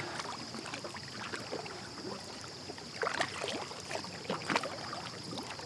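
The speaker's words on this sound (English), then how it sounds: "So I'm gonna keep paddling my way up to the spot." Soft splashes and drips of a paddle dipping into a muddy creek as a kayak moves slowly upstream, close and gentle, a little louder near the end, over faint wind.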